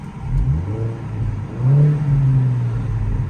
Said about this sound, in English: let me just give the throttle a very quick blip again.